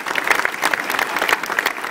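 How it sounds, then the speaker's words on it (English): At a university press conference on joining a new athletic conference, the audience gives a short burst of dense, even applause from many people, close and fairly loud, with no talking over it. "I think a round of applause for our colleagues is absolutely"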